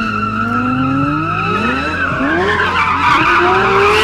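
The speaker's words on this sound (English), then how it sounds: "the LFA is a road car that sounds like it belongs on an F1 track" Lexus LFA with its 4.8-liter V10 screaming loudly up and down the rev range, a steady high-pitched wail with rising and falling pitch and a hint of tire squeal.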